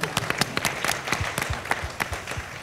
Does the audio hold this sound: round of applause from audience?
yes